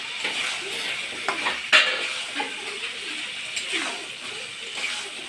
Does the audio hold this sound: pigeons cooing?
no